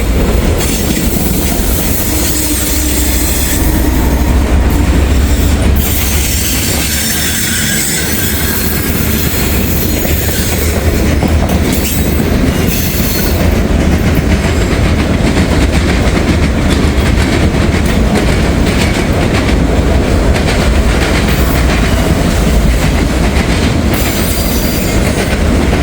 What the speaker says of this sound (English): DPU coming through, guys.